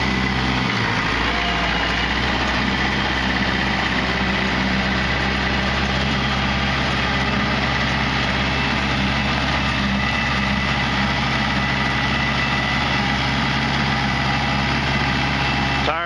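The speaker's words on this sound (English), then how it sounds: "It's a real good running tractor, fires right up." A Kubota tractor engine with a shuttle shift transmission and loader idles steadily nearby, a constant low rumble with a faint metallic hum that holds unchanged for the whole stretch, with no talk over it.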